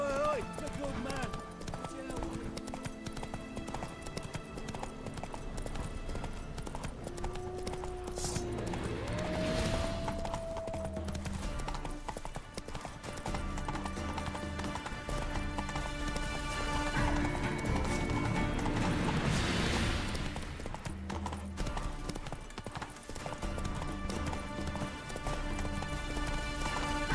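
Geralt's horse Roach galloping in The Witcher 3: Wild Hunt, with fast rhythmic hoofbeats throughout under game music and voices, plus a whinny along the way.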